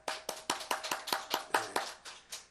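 Members of a church congregation at a Sunday afternoon service clap in welcome for guests, a sparse, fairly slow sequence of about a dozen distinct claps, soft and somewhat distant, with no talking over it.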